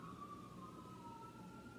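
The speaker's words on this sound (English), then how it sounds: "I have these sirens in the background" Siren in the background, a steady wailing tone drifting slowly in pitch, faint and continuous under a low hum with no voices.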